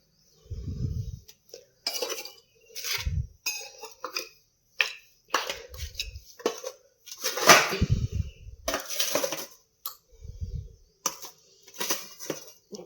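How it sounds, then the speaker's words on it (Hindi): Eating utensils and dishes clink and clatter in scattered bursts as they are gathered and carried off for washing, close and sharp with quiet gaps and occasional dull thuds between, no speech. "अब जो खाने वाले बर्तन हैं वो भी लाऊंगी, ये वाले बर्तन भी ले जाऊंगी वहाँ धोने के लिए।"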